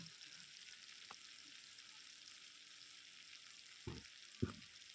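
Chopped onions hit a pan of frying fish and sizzle steadily at a low level, with a couple of brief knocks from stirring toward the end.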